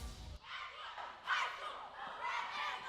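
High school cheerleading squad cheering at a competition, a loud crowd-like burst of shouting voices that swells in waves over about three seconds after an opening thud.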